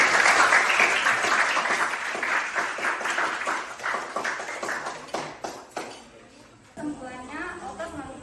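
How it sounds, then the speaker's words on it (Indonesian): Classroom of students clapping together in a lively burst that fades out, followed by a teacher's voice speaking. "Kita tepuk tangan dulu."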